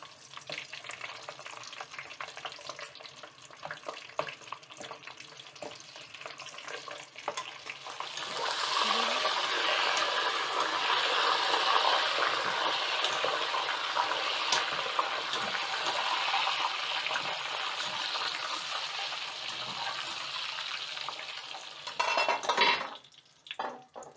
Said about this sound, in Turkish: Şimdi bir 3-4 tane de biber kızartacağım üstüne böyle.